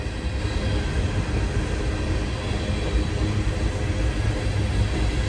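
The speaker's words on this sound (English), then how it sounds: "How's this for a nice train?" Union Pacific SD70ACe locomotive hauling an empty coal train through Cajon Pass, a steady loud rumble of engine and rolling wagons close by, continuous and even throughout with no talk.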